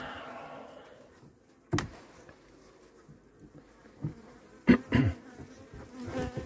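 Honeybees buzz steadily around an open hive during a November brood check for Tropilaelaps and varroa mites, with a continuous near hum broken by a few sharp knocks and handling thumps.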